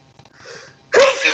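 A single close, loud sneeze bursts out after a short breathy intake, with no talk around it.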